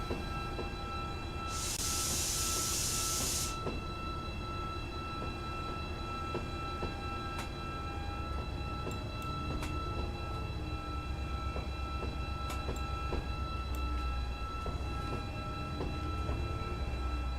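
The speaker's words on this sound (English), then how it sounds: "we're arriving at the Great Yarmouth Station" A diesel passenger train pulls into Great Yarmouth station on the Wherry Lines in Train Simulator 2020, its engine a steady low drone with faint rail clicks and a brief hiss near the start, heard alone without talk.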